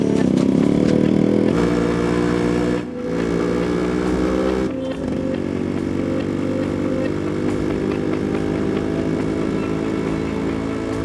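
A motorcycle engine runs steadily and loudly in a Hindi-dubbed action movie, a continuous droning hum with two brief dips, with no talk over it.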